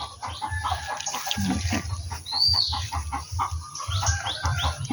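Hens cluck steadily while a rooster crows partway through, set against constant low background hum outdoors in a garden.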